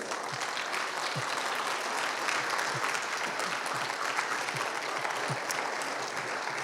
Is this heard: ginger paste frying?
no